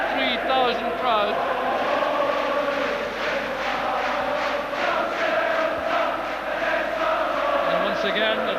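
Celtic supporters in a 53,000-strong stadium crowd chant, sing and cheer during a Celtic v Rangers Scottish Cup match, a dense roar with rhythmic chanting that stays steady throughout, with commentary speech running over it.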